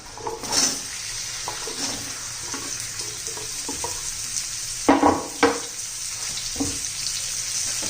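Red pumpkin pieces go into a hot pan of spiced oil with turmeric and red chili for a spicy bhaji. A steady sizzle and frying hiss runs throughout, with occasional soft clunks and stirring scrapes.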